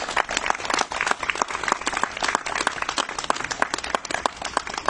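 A small crowd claps for the artists at a protest at the Whitworth Art Gallery, with distinct individual hand claps forming a lively, uneven patter that continues steadily throughout.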